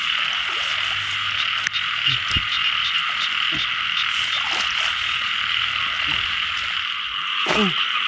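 Small plump frogs croak in a flooded rice field after rain, with scattered throaty calls near and far over a steady, loud shrill chorus filling the background.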